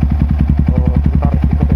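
Motorcycle engine running at idle during an idle test: steady, fast, loud low-pitched thumping pulses, close up, with no talk.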